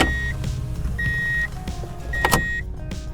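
Inside a 1993 Subaru Legacy, the automatic shoulder harness whirs along its track in short motorized bursts with chimes sounding, then clunks as it locks in place.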